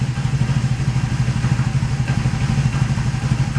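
A Kawasaki KZ750 twin motorcycle engine idling while still cold, its steady, close throbbing pulse running throughout and sounding a little rough, as if it wants to stall.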